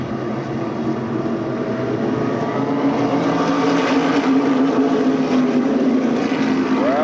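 Modified race cars roar around the Stafford Speedway oval in a steady, loud engine drone that swells slightly over several seconds, heard alone.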